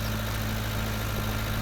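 A tractor pulling a small plough in Farming Simulator 19 rumbles steadily at idle-like revs, a continuous low engine drone with constant hum and no pauses, close and fairly loud.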